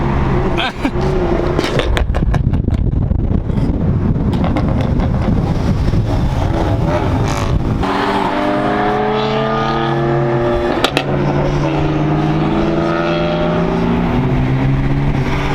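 A powerful turbocharged BMW engine roars and revs continuously, rising and shifting pitch as it accelerates, loud and close, with people talking over it.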